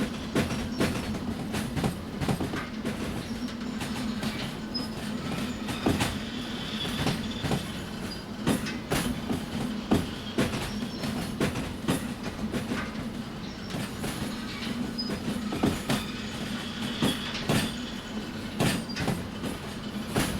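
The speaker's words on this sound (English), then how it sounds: "Looks like I'm gonna have to push back some full tankers in addition to this heavy train." A heavy freight train rolls along the rails in the VR railway game Derail Valley near a coal mine, with a continuous low rumble, rhythmic clickety-clack of wheels over joints and occasional squeals, steady and fairly close.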